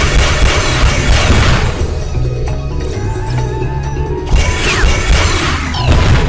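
Laser turrets in the Despicable Me video game on PS2/PSP are blasted and explode, giving loud crashing booms and bursts over a busy game soundtrack, with a second burst of destruction near the end.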